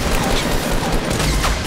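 Dense, continuous gunfire rattles in a Fortnite match, loud and close, with a noisy wash of in-game battle sound filling the moment.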